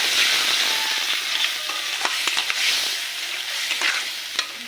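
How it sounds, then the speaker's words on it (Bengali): Spice paste loosened with a little water sizzles steadily as it is stir-fried in a pan for a prawn dish, with frequent scraping stirs and small spatters throughout and no talking. "একটু জল দিয়ে গুলে নিই বুঝলে বন্ধুরা এবার এটাকে ভালো করে কষিয়ে নিতে হবে"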